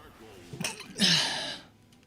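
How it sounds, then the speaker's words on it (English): A single sneeze bursts out at close range, short and loud after a faint intake of breath, with quiet background sound around it during a Torchlight 3 gaming stream. "Sorry, I couldn't hold that sneeze."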